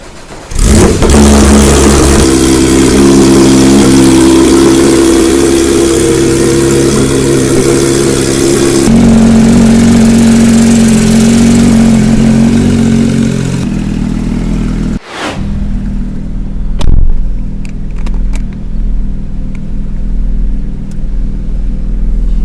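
A Porsche 991.2 GT3 with a naturally aspirated flat-six and an Akrapovic full exhaust cold-starts loud and close, then holds a high, droning fast idle for a long stretch. It cuts back abruptly and settles into a lower, rougher idle with occasional blips.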